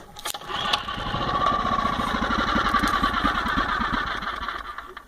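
A Champion 1200 watt generator's small engine cranks and sputters close by in one steady, pulsing run of about five seconds, nearly catching without settling into a running idle; no voices.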